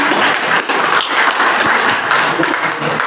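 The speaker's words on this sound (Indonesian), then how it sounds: "Oke, berikan tepuk tangan." A classroom of students in an Indonesian language lesson breaks into dense, continuous applause. Many hands clap together loudly and evenly, close by, for several seconds.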